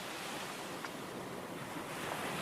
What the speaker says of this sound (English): The sky grows dark, and the waves rise and crash.